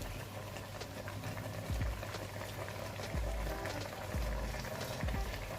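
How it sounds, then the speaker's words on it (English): Benin-style bitterleaf black soup simmers in a pot as fresh fish goes in, with a low continuous bubbling and a few soft, dull thumps and splashes close by. "Now I want to add my fresh fish."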